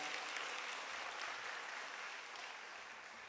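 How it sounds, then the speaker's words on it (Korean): A church congregation clapping after a choir's hymn, a broad, even wash of applause heard from some distance that gradually softens over a few seconds. "하나님께 영광의 박수 올려드립니다"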